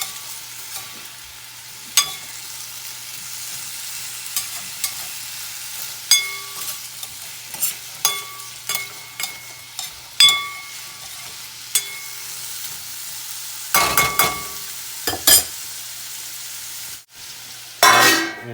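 Raw mango curry with spices is stirred in a pan, a string of sharp spoon clicks and scrapes at irregular intervals over a faint low hum, with a few louder clattering bursts near the end.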